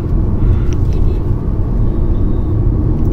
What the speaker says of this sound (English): if I want to quickly downshift from 4th, ooh, nice, and upshift to 5th now